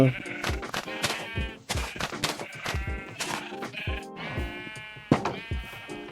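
Sheep in the Minecraft video game bleat again and again in short, nasal bursts, close and clear, with brief gaps between calls and no talking over them.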